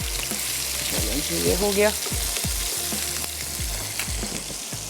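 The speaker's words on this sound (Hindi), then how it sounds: "सिर्फ हम इसकी आउटर लेयर को अच्छा सा क्रिस्पी कर रहे हैं" Chicken pieces fry in a hot pan to crisp their outer layer for patakha chicken, a steady loud sizzle with stirring clatter and brief utensil taps, while someone speaks briefly over it.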